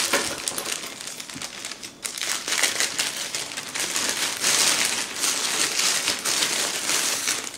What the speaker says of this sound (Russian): И приступим к большому пакету.